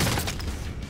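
Jack 12 shotgun firing in Verdansk, a Call of Duty battle-royale map, with a dense burst of loud, rapid booming shots and gunfire clatter across a second of chaotic game combat.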